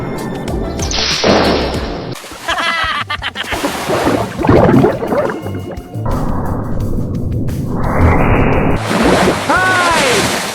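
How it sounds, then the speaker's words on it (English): A giant cartoon wave crashes, bringing splashing surf and whooshing effects in shifting bursts, while animated voices speak between the sounds. "Giant wave!"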